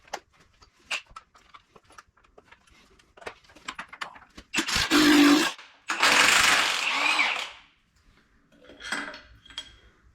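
A power tool works on an engine crank bolt on a turbocharged LS drag car, giving two loud bursts of whirring and rattling impact noise of about a second each and a shorter burst later, after quiet clinking.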